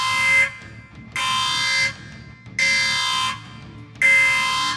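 A loud electronic alarm blares in four regular bursts of about a second each with short gaps between, a harsh buzzing horn-like tone, close and dominant with no talking.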